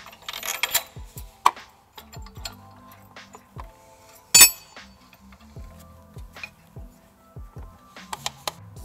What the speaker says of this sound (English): Now we're gonna take our pin with our flat washer and lock washer, and we're gonna thread it in on the passenger side.